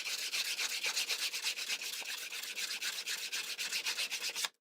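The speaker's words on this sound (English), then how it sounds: "this is 400 grit sandpaper." Leather edge worked with 400 grit sandpaper gives a steady run of quick, close rubbing strokes in an even back-and-forth rhythm, ending abruptly with no talk.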